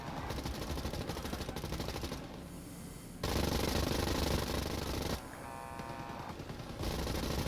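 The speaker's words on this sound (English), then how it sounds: "Luckily, we have two neatly positioned machine guns right here." Rapid machine gun fire rattles in long sustained bursts in the VR shooter Wolfenstein Cyberpilot, loud and dense, broken by brief pauses and a short mechanical whine between volleys.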